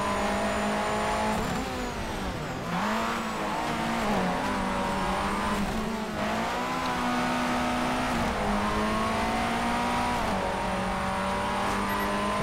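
Rally car racing in the video game Colin McRae: DiRT, a rallycross supers car engine revving and shifting continuously up and down through gears, loud and close with tire noise, no talk.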